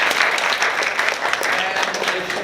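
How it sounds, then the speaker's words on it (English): An audience in a teaching workshop room applauds, a steady burst of clapping from many hands heard fairly close for a few seconds. "give those people a round of applause, please"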